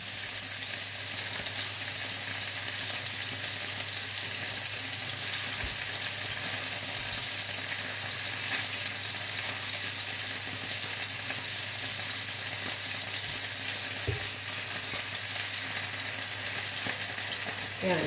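Morcon, a Filipino meat roll, frying in a pan, a steady loud sizzle of hot oil that runs unbroken throughout, with a few faint clinks of a utensil.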